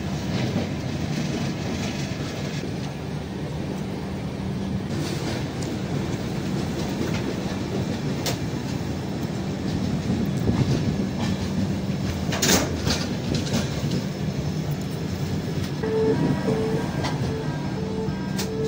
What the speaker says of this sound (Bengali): ট্রেন আস্তে আস্তে বিজয়ওয়াড়া স্টেশনের দিকে এগোচ্ছে।